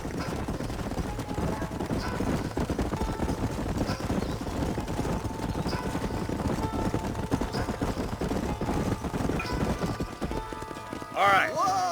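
Horses clip-clopping in the video game Red Dead Redemption, a steady stream of hoof beats from several mounts trotting together, continuous and moderately loud, with faint game ambience and a voice near the end.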